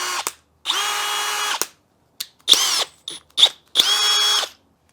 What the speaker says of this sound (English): Mine sounds like a normal drill.